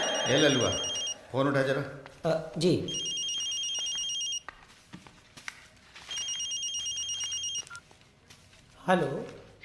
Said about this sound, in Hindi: ललुआ फोन उठा जरा।